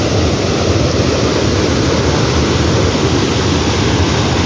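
Water gushes through two open spillway gates at Ubol Ratana Dam in a loud, steady, close roar of rushing, spraying water that stays constant throughout, with no voices.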